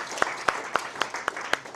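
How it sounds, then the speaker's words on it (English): An audience at a Fly Safe instrument-flight meeting claps for Phil: evenly spaced claps with crisp, regular strikes about four times a second, moderately close, over a low murmur of applause. "let's get a round of applause for Phil."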